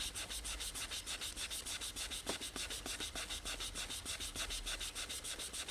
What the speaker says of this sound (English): If I keep rubbing on the gold, it will eventually dissolve.